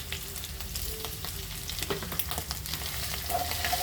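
Dry, unsoaked moong dal frying in a pan, with a busy close sizzle broken by scraping stirring strokes throughout; no one speaks.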